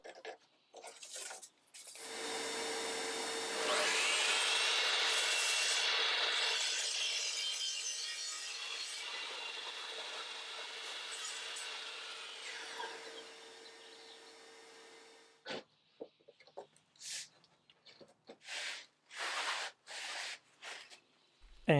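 A saw cuts a circle from a glued-up wood panel for an antique marquetry table, giving a long, steady, close rasping whine that runs for about thirteen seconds and then stops, followed by scattered short knocks and scrapes.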